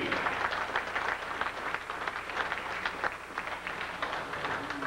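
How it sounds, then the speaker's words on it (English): Audience applause at a speedway racing banquet, a dense, steady wash of many hands clapping throughout, fairly distant and even in level, with no clear talk over it. "Big round of applause again, folks, for the superstar,"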